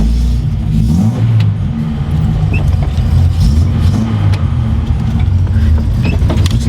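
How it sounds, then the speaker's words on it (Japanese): A Datsun 240Z Fairlady Z S30 on a test drive after a DIY repair, its engine producing a steady loud low rumble with slight revving changes from inside the car. "ちょっとテストドライブに行きたいな。"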